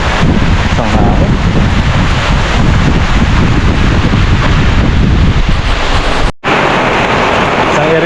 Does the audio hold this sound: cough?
no